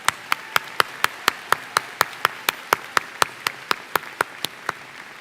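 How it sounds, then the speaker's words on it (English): A single pair of hands claps slowly and steadily at a commencement ceremony, evenly spaced sharp claps repeating close by against a faint room background. "Please join me in a final round of applause for our business graduates."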